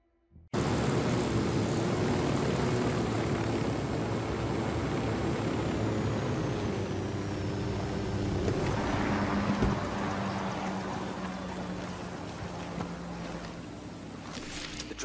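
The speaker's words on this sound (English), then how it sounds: "Drone is up." A drone in the video game Ghost Recon Wildlands hums steadily with a continuous buzzing whir that fades slightly toward the end, heard alone and fairly quiet.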